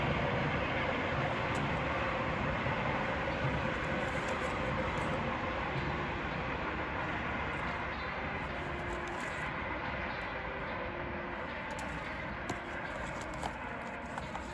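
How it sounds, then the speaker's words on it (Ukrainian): A train rumbles past near a country garden plot, a continuous heavy rolling roar that holds steady and loud throughout, with faint rhythmic clacking of the wheels on the rails. "Це в нас тут ходить поїзд. Чуєте ви ці звуки?"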